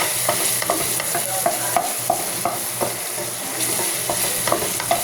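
Garlic sizzles and browns in a hot pan for spaghetti sauce, giving a loud, continuous frying hiss broken by repeated spatula scrapes and taps in an irregular rhythm, with no voices.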